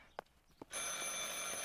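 A telephone rings in the horror video game Martha Is Dead, a loud, steady electronic bell tone that starts suddenly after two soft footstep-like thuds and holds continuously without pause.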